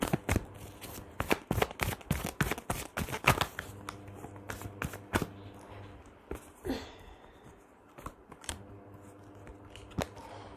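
Tarot cards being shuffled and drawn, close and fairly quiet, with a quick run of crisp riffling snaps at the start and a few scattered card flicks later.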